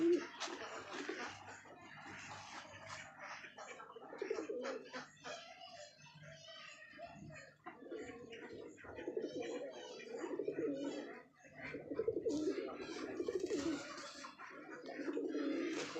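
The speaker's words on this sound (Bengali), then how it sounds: "সব পায়রাগুলো আমাদের এখানে আছে সব খাবার খাচ্ছে" Pigeons coo softly and continuously in a loft while feeding, a low murmuring chorus with occasional brief chirps, fairly quiet and close.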